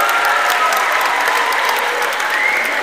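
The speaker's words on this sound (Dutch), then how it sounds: "Hart applaus!" An audience at an award event breaks into dense, continuous applause, many hands clapping at once throughout the whole stretch.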